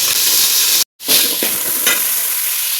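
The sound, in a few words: minced mutton added to hot oil, sizzling with curry leaves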